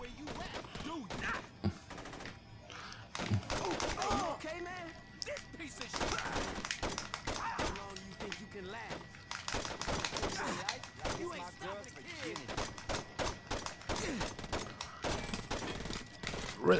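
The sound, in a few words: gunshots from the video game Saints Row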